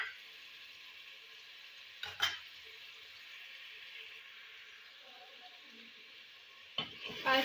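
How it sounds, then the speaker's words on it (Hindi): Chicken coated in ginger-garlic paste frying in a pot for a Pakistani-style qorma, with a steady close sizzle throughout and two brief scraping stirs of a spoon, one near the start and one at the end. "अभी अदरक लहसुन का पेस्ट डाल के 5-7 मिनट तक इसको अच्छी तरह भूनेंगे"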